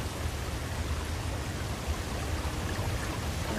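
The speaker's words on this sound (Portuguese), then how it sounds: "Água saindo aqui, ó." Water gushing from a pipe in the video game Far Cry 5, a steady, dense rushing hiss with no breaks, fairly loud and close, heard alone without talk.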